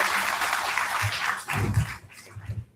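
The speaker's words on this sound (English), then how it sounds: "Students give a huge round of applause to her." Students applauding at a campus gender-sensitisation talk, a broad wash of clapping that swells and then tapers off, with a low voice-like murmur underneath toward the end.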